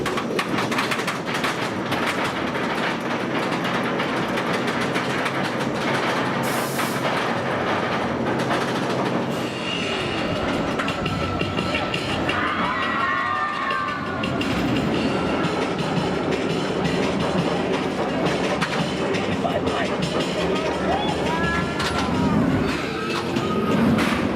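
The Oblivion roller coaster at Alton Towers makes a continuous loud rumble and clatter of wheels on track, with faint squeals and screams in the mix, and no clear talking.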